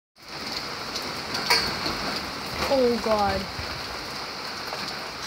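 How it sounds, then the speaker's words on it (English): Heavy rain pouring down in a storm with strong wind, a dense steady hiss throughout, with a brief exclaiming voice partway through. "earlier it was raining so hard"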